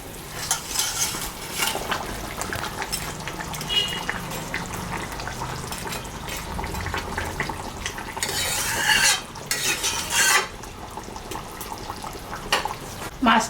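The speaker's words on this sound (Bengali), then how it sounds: "ঝোলটা ফুটে গেছে, আমি এখন মাছটা দিয়ে দেব।" Mrigal fish goes into a boiling curry with ridge gourd and poppy seed. Continuous bubbling and sizzling run throughout, with scattered clinks and scrapes of a pot and utensil close by.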